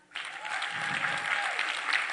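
A conference keynote audience claps steadily, a dense wash of applause that starts abruptly and holds at an even level throughout.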